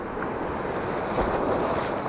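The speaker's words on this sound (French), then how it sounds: "Il y a pas mal de vagues, hein." Sea waves breaking on a rocky shore during shore fishing, a continuous broadband wash of surf with wind rumble, fairly close and steady for the whole short stretch.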